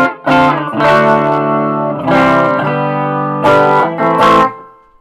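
Loud distorted electric guitar chords on the bridge humbucker through a Marshall Plexi combo amp ring out with a thick, gritty tone, struck in a few sustained hits with an effected, shimmering character.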